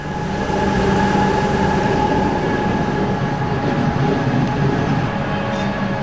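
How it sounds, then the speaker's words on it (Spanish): A modern mountain train runs on rails up the Montserrat massif in Catalonia toward the sanctuary. Its steady, loud rolling rumble and mechanical hum continue throughout, with faint tonal whines riding on top and no voices. "El tren más popular de Cataluña recorre de nuevo, desde hace tan solo unos meses,"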